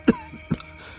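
An elderly man coughs twice, the first a sharp, loud hack and the second a softer one, close by, with a quiet pause between.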